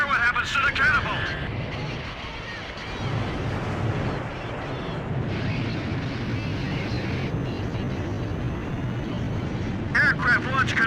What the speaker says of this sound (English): Aircraft launch confirmed